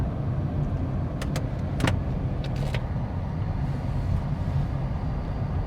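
Cars pass along a road at night, heard as a steady loud rumble of traffic with a few brief brighter swishes as vehicles go by close.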